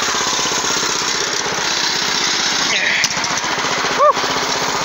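A scrap cart's small engine runs in a close, loud, rapid rhythmic putter that continues steadily, with a couple of brief clatters and a voice near the end.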